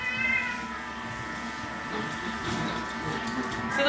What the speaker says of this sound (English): one of my cats just insists on getting down on the ground and being annoying and whining